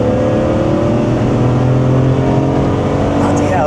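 A BMW E46 M3 engine roars loudly and steadily, the pitch climbing as it accelerates on open road, heard from inside the car.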